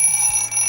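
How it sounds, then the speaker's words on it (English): A loud alarm clock rings steadily and continuously at close range with a harsh, buzzing electronic tone, set off in a test of a loud horn underwater. "I barely got the alarm clock sorted out."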